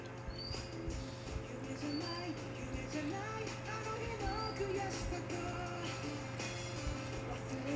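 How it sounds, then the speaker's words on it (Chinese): Small birds chirp outside an indoor room, their brief, thin calls repeating faintly through the span over a constant electrical hum and soft background noise. "外面一直有鸟叫"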